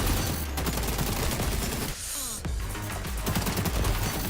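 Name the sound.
AK-47 gunfire in XDefiant video game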